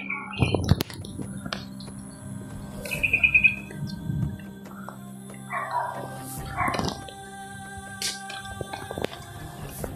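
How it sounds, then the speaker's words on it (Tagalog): Dogs bark in short, scattered outbursts in an outdoor setting, with bird chirps and some nearby voices mixed in at moderate volume. "May mga asong dala."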